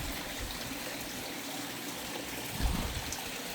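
A backyard creek trickles and flows steadily, a soft continuous watery wash close by with a brief louder splash near the end.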